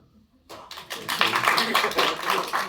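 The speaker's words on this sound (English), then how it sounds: "still only the immigrants are clapping" Scattered clapping from a comedy-show audience breaks out after a short silence and builds into a modest ripple of applause, with some murmuring under it.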